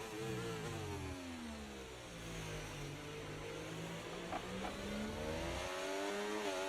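Formula 1 race cars from the F1 24 video game roar past in a close overtaking move, a pair of McLarens among them, with steady engine drone and rising, falling revs that hold loud and near through the whole stretch.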